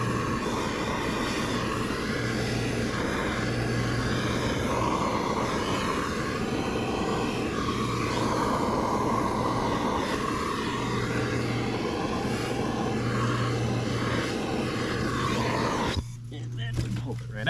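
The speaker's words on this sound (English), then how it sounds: "Now we heat the pipe up." A torch heats a pipe during a water-leak repair, a steady roaring hiss running continuously and fairly loud, cutting off abruptly near the end.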